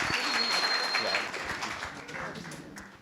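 Guests at Wade and Michelle's wedding reception clap for the newlyweds, a steady patter of applause that slowly thins out, with chatter and a few voices mixed in.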